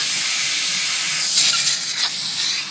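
An airbrush blows a steady stream of air to dry a paint foundation while lettering on rayon, giving a continuous close hiss with slight swells in strength.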